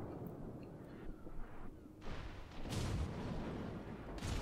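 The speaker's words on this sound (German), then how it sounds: "Die Mogami schießt natürlich schnell" A Mogami cruiser's guns in World of Warships firing in heavy, rumbling salvos. Several booms roll into one another at moderate loudness over low battle noise.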